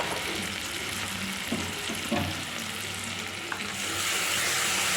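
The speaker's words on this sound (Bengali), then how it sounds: "ভাজাতে আমি ভালো করে কষিয়ে নিচ্ছি" Steady frying sizzle of boiled potatoes stir-fried in a pan, with occasional scraping stirs and light clinks, close and continuous, rising slightly louder at the end.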